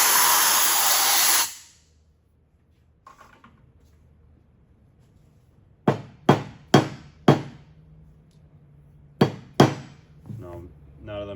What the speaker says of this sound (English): So take an air gun and I'll blow out from underneath it.